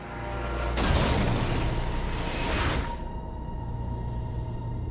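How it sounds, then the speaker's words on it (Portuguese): A loud, broad blast erupts and roars for about two seconds before dying down into a lingering low rumble, as an explosion and shrapnel bring down a British plane. "A explosão e os estilhaços derrubam o avião britânico."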